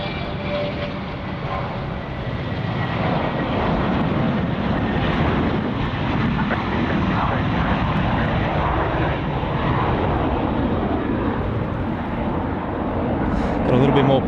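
A QantasLink airliner takes off from runway 34 right at Sydney Airport, its engines a steady, loud, broadband roar that holds throughout while someone talks over it.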